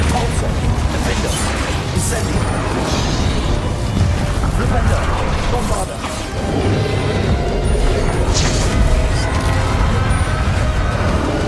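A Bombarda explosion spell goes off during a dragon battle in Hogwarts Legacy. Loud, continuous crashes, smashes and booms fill the scene with barely a pause, while game voices mingle in the din.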